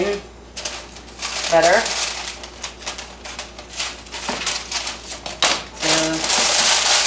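Scissors trim parchment paper to line a pan for banana bread, with crisp snips and rustling paper up close while a person talks.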